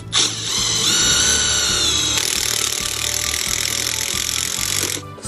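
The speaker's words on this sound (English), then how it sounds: "I can drill the screw into the metal" A power drill whines steadily at close range, its pitch shifting as a self-tapping screw bites into metal and then running on at a constant high speed.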